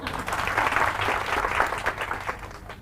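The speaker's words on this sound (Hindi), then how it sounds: "तो इनके लिए तालियां बजाओ एक बार।" A crowd claps together in a short burst of applause, loud and close, fading slightly toward the end.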